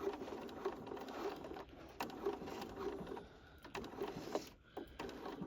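A sewing machine with a size 16 needle stitches thread through a large clutch bag, making quiet, close, rhythmic whirring runs broken by brief stops.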